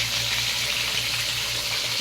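Chicken pieces for crispy chicken fry in hot oil with a loud, close, continuous sizzle, a dense hiss holding steady without pause.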